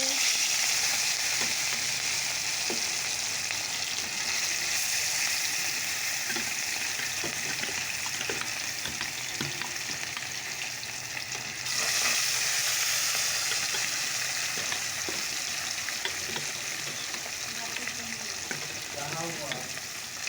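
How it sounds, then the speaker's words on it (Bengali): Fish pieces fry in hot oil on a gas stove, making a loud, dense, continuous sizzle heard up close for the whole stretch, with a brief surge midway and occasional stirring scrapes. "চলো দিয়ে দিই মাছগুলোকে ছেড়ে দেব এখন এক এক করে"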